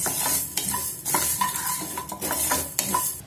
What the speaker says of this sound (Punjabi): ਜਿਹੜੀ ਸਾਡੀ ਹਿੰਗ ਆ ਉਹ ਵੀ ਆਪਾਂ ਮਾੜੀ ਜਿਹੀ ਭੁੰਨ ਲੈਣੀ ਆ